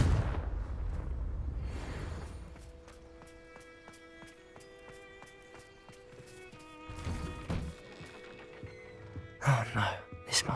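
A Confringo fire spell from Hogwarts Legacy blasts with a booming, artillery-like burst and rumbling aftermath, followed by lighter pops and bursts later on.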